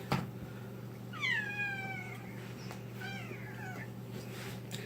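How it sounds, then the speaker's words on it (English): A six-year-old, 13-pound American Shorthair cat meows twice, a few seconds apart, each call bending down in pitch, close by over a low indoor hum. "Lily's an American Shorthair Cat"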